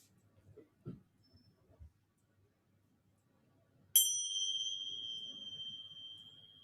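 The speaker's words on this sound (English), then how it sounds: "So the sound of the bell marks the end of our practice." A single bell is struck once to close a yoga practice, giving a clear, bright ring that sustains and slowly fades after a few soft rustles in a quiet room.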